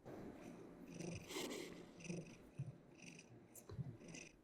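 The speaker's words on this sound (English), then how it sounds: "Hearing purr is delightful." A cat purrs close by in a steady rumbling rhythm of repeated breaths, each purr cycle pulsing softly and evenly with no talking over it.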